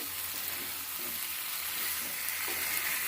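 Small potato curry sautéed slowly in a pan over low gas, a soft even sizzle with faint stirring, quiet and steady without talk.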